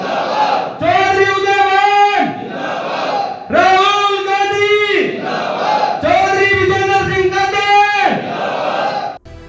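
Crowds of villagers cheer in welcome for politician Billu Kadian arriving with a long convoy, giving three long, loud, rising chanted roars of many voices, each lasting about two seconds with brief dips between.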